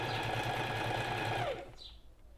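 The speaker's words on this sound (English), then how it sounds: "I'm going to pull it taut and sew down that zigzag line" A sewing machine stitches a zigzag line along the elastic casing of a dress, whirring steadily and up close for about a second and a half before slowing to a stop.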